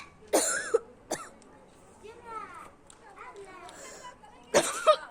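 A few sharp coughs, one burst near the start and another near the end, with quiet throat sounds and faint talk between them.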